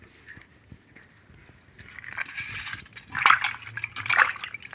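Cut pieces of raw mango being washed by hand in a bowl of water, with soft sloshing and splashing that starts quiet and grows louder and busier toward the end.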